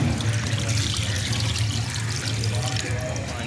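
Steady, loud splashing and running water from a garden fountain holding molly fish, a continuous near wash of flow that fills the whole stretch without pause.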